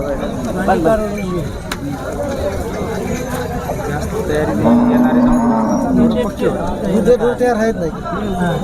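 Dairy cows mooing repeatedly, close and loud, over a busy background of people talking and crowd chatter at a weekly livestock market.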